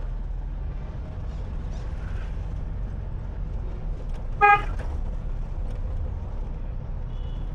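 A single short car horn honk cuts through steady engine and road rumble on a highway, heard from inside or near a moving vehicle.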